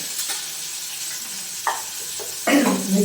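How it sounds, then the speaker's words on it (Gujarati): Tomatoes and turmeric go into a hot pan while green pea dal is being made, giving a sizzle that swells sharply midway and again near the end, with stirring scrapes and a loud frying burst at close range. "હવે ટામેટા નાખીશું હળદર નાખીશું"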